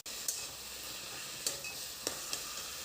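Taro curry sizzles steadily in a frying pan while a utensil stirs it, with a few distinct scrapes and taps against the pan over the soft, constant frying hiss.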